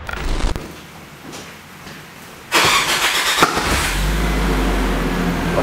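Porsche Cayenne diesel engine, idling nearby after a door thud and a burst of starting noise, then a steady low rumble that continues to the end, with no talking.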